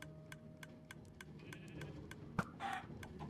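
Rhythmic ticking runs throughout while a game chicken gives a short cluck, set against a faint electronic background.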